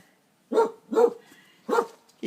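A dog gives three sharp barks, with short pauses between them, close and fairly loud with no one talking.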